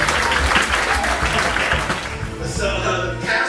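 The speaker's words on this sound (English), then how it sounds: "Give us a applause." Audience applause at a live comedy show in a club, steady dense clapping throughout, loud and close, with a faint voice near the end.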